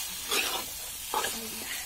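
Chicken meat fries with onion and spices over a fire while a spatula stirs it, producing a steady close hiss and sizzle broken by two short scraping stirs.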